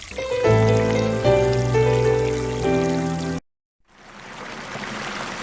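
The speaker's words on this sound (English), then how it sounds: "Imagine a pond, stream, or waterfall on your own property right outside your window." Water trickling and splashing in a garden pond or waterfall, heard as a steady, soft wash of noise. It comes in after a stretch of tonal music and a brief silence.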